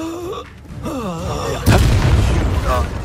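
A Confringo fire spell blast in Hogwarts Legacy bursts out suddenly as a loud, low booming explosion partway through, after a character's speech, with a rumbling roar that lingers to the end.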